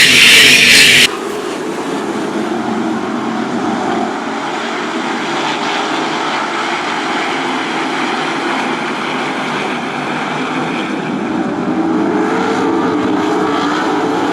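305 sprint cars race at Attica Raceway Park in a 25-lap A-main feature, a loud, continuous roar of racing engines that swells and sustains across the whole stretch, with a brief bright burst right at the start.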